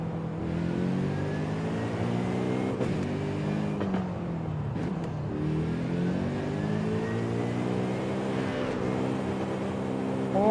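A car in Forza Horizon 5 revs hard toward an 8,000 rpm redline, its rising engine tone climbing steadily with brief dips at gear shifts, loud and continuous throughout.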